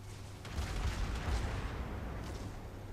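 Battleship gunfire in World of Warships, including the Tirpitz, rumbles in a few low, muffled booms rolling over a continuous engine-like drone, fairly quiet and distant.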